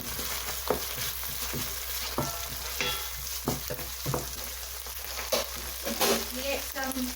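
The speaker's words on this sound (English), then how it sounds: "give it a nice stir." Ginger garlic paste frying in a pan, a continuous close sizzle with repeated scraping strokes and clinks of a spoon stirring, a low steady hum underneath and no clear talking.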